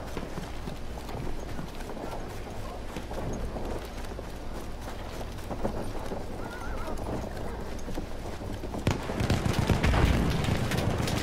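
Hoofbeats of a horse galloping in the video game Battlefield 1, a steady clip-clop over constant battlefield noise, with a louder burst of gunfire or an explosion near the end.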